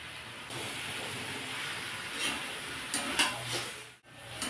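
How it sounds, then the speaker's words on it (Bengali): Mixed vegetables sautéing in a pan with a little water added, giving a steady soft hiss and sizzle with a few faint clinks of stirring. "জলটা দিয়ে ভালো করে কষিয়ে নেব"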